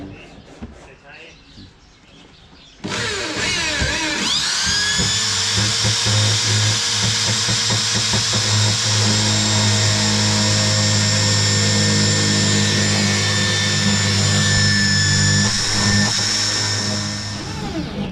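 After a few seconds of quieter background, a power drill starts driving screws through a sound-damping plate into a pickup truck's floor, a loud steady whine that holds for the rest of the clip, close by.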